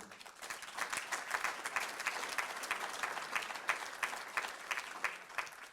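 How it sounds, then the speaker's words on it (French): A crowd claps together in a meeting hall, a dense, sustained round of applause with a steady rhythm, moderately distant and even throughout with no voices over it. "Je pense que vous pouvez les applaudir."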